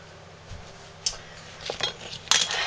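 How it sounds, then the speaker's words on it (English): A spatula scraping homemade soap mixture out of a bowl, heard as a few faint, close scrapes and taps against the bowl spread across a quiet background. "I'm using a spatula to scrape all the goodness out of my bowl"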